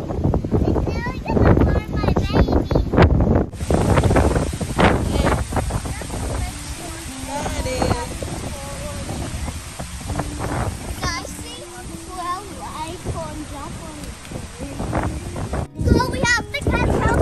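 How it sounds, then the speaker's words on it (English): Strong wind buffets the microphone outdoors at Timbertown, New South Wales, Australia, a steady rough rumble running the whole time while adults and children talk over it. "So strong, the wind lap."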